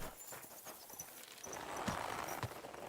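Horse hooves clip-clop in a steady walking rhythm in the medieval game Kingdom Come Deliverance II, moderately close with rising ambient rustle, no talk.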